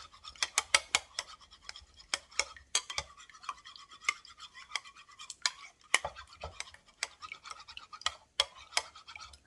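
Egg yolk being beaten with a utensil in a bowl, a rapid run of sharp scraping clicks that pauses briefly, then resumes in quick irregular strokes.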